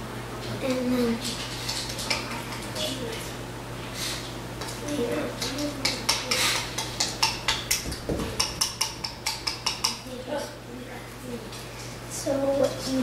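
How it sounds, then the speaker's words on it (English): Banana bread batter is mixed in a bowl, a run of quick rhythmic scraping clatters building midway, with a steady low hum underneath and some talk. "so you just want to mix it for quite a while to get all of the stuff."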